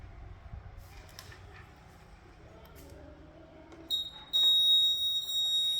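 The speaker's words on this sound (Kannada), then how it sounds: "ಈಗ ಬಜರ್ ಶಬ್ದ ಮಾಡುತ್ತದೆ, ಹಾಗಾಗಿ ಇದು ವಿದ್ಯುತ್ ವಾಹಕ" A buzzer in a simple conductivity test circuit sounds as a piece of silver is placed on the contacts, starting as a loud, steady high-pitched tone near the end after a quiet stretch of faint room noise.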